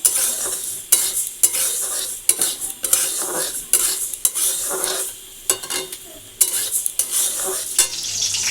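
Pumpkin slices and four pieces of brinjal frying in a pan, with a steady close sizzle broken by repeated bursts of utensil stirring and scraping against the pan.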